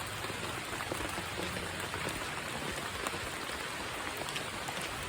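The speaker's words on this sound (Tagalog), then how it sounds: "Ayan na ulan." Steady rain falls at a nature reserve on Mount Purro, a dense, even hiss of drops pattering on surfaces, continuous and moderately quiet with no voices.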